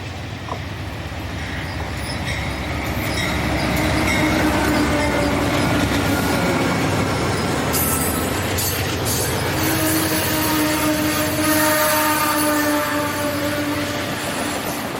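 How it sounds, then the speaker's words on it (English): Amtrak's westbound Capitol passenger train pulls into Rockville, Maryland station, a steady loud rumble of rolling wheels with rhythmic clickety-clack and sharp metallic squeals from the wheels as it slows. "The westbound Capitol arrives in Rockville"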